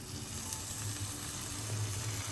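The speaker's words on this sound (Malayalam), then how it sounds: "അപ്പം അതിലേക്ക് കുറച്ച് വെള്ളം ഒഴിക്കണേ." Water poured into a hot pan of chicken masala with tomatoes, giving a steady broadband sizzle and hiss that holds at an even level throughout, with no one talking.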